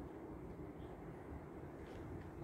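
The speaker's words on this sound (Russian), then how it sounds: "Что за такой большой поезд едет к нам?" A big train approaching a stop on a line toward Adler, a low, steady rumble with a broad mechanical drone and no clear horn, fairly faint and even throughout.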